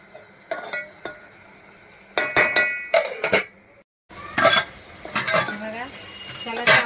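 Metal lid set onto a cooking pot while preparing spicy Puneri misal at home: a string of sharp metallic clanks and clinks in irregular bursts, close and fairly loud, with a short silent gap partway through.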